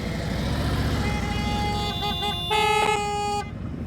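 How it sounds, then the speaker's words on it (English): Car horn honking in congratulation next to a motorcycle slow-speed riding practice area, with several sustained toots and a louder blast near the end, heard over steady engine and traffic rumble. "horn honking. I love it."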